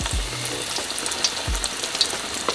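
Apricot fritters sizzling in oil make a close, fizzing crackle, with a couple of soft low thumps from the pan.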